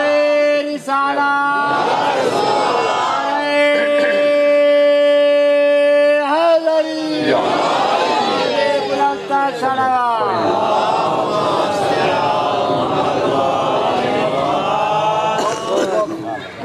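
At a majlis gathering, a single voice calls out a long, drawn-out religious slogan and a crowd answers with loud, overlapping chanted responses that build into a dense, ringing roar of many voices.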